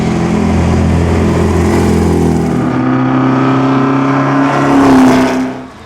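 A Porsche race car at the Mille Miglia passes close by, its loud engine droning steadily then rising in pitch as it goes past and fades quickly at the end.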